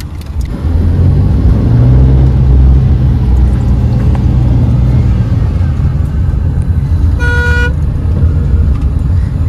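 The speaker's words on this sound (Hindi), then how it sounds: "एक्सेलरेशन तो अच्छा है यार, अच्छा पिकअप दे रही है गाड़ी" Tata Nano car after a full service, engine droning steadily and loudly from inside the cabin as it picks up speed, with a brief horn toot near the end.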